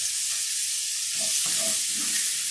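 Onions sizzle in hot garlic butter as they go into the pan: a steady, close, bright frying hiss with a few soft stirring sounds midway, and no talking.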